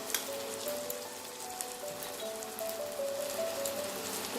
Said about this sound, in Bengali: দিয়ে এই মশলাটাকে খুব ভালো করে কষিয়ে নেব।